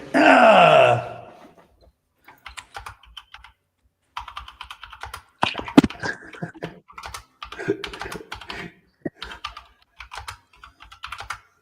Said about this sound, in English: Who's typing fast?